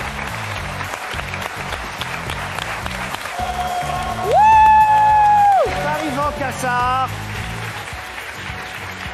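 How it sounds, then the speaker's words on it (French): A TV talk show studio audience claps and cheers as a pianist is welcomed. A host's voice comes first, then a loud, long whoop rises above the sustained applause before it settles. "On applaudit."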